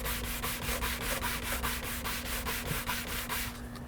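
Steady rhythmic scrubbing of a leather seat in a Tesla Model S, worked with a brush and foaming cleaner: fast, even back-and-forth strokes, close and continuous, fading slightly at the end.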